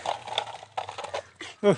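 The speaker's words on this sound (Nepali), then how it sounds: "कति राम्रो पपी रहेछ, यता देखाइदेऊ त।" A person talks briefly, then a short high whimper or yelp from a puppy rises at the end, close by, in a Nepali village.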